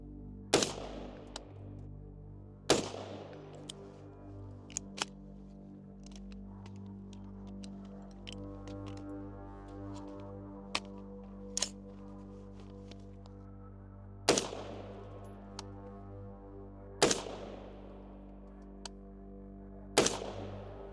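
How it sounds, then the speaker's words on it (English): Rifle fitted with a Trijicon 4x32 ACOG optic fired at targets on a range: about eight sharp, loud gunshots at irregular intervals over twenty seconds, with an outdoor hum between shots and no talking. "So 14 shots, 58 seconds with the malfunction."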